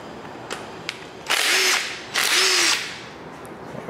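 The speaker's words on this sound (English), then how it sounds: "So now we can remove the 10 millimeter bolts that hold the lifter valley cover on." Two sustained bursts from a power drill or impact driver spinning out 10 mm lifter valley cover bolts on a 5.3L LS LM7 V8, each whirring about a second close to the mic, with a few light clicks between them.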